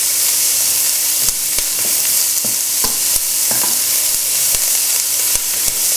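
Roughly chopped onions with a pinch of salt sizzle in a pan for chicken curry while a utensil stirs them, giving a steady close frying hiss broken by repeated sharp scraping clicks and no voices.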